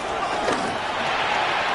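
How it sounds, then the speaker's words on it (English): A football stadium crowd at a New Orleans at Carolina game roars on third down, a steady, dense wall of noise that holds at full volume without a break for the whole stretch. "This crowd into it now as we get to third down."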